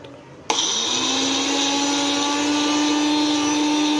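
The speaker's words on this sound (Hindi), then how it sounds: "ये मैंने मंगाया न्यूट्री ब्लेंडर" A nutri blender holding tomatoes kicks on abruptly and runs steadily at a loud, high-pitched whine with no pauses.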